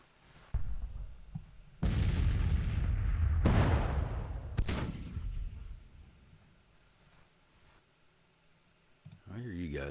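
Artillery and rifle fire in the Grand Tactician: The Civil War strategy game, heavy booming bursts and rumbling volleys around the middle, with a few sharp cracks and clicks, fading to quiet and then a voice at the end.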